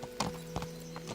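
Horse hooves clip-clop in the video game Kingdom Come: Deliverance, four distinct, fairly close hoofbeats spaced irregularly over a steady low background hum.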